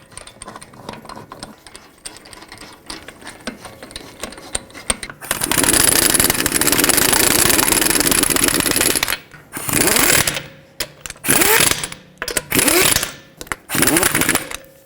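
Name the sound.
lug nuts being run down on a Toyota Camry wheel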